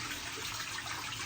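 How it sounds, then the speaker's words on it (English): Rice being rinsed in water while cooking Jamaican rice and peas, a continuous, even swishing and running-water wash at moderate level with no breaks or distinct splashes. "So when the rice is being washed"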